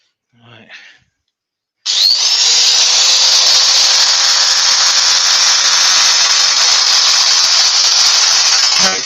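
A power sander working a wooden farmhouse plate with 80 to 120 grit paper gives a loud, steady, continuous whir that starts abruptly after a brief murmur and runs unbroken to the end.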